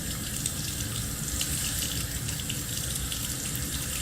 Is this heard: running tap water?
yes